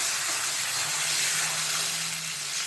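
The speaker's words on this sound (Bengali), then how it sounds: "এবারে আমি জল গরম করে রেখেছি," Hot water hits sizzling fried masala in a pan for a rui fish curry, giving a steady, loud steamy hiss that holds evenly throughout.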